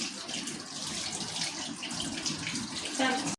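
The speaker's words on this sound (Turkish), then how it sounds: "Üzerine kaynatılmış su ekleyip biraz karıştıracağım" Boiled water poured from above onto tomato paste as a sauce is started for a minced-meat karnıyarık with potato slices, making a steady splashing gush that runs throughout and ends abruptly.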